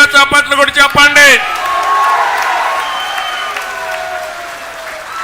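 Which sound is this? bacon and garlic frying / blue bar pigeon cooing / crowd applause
crowd applause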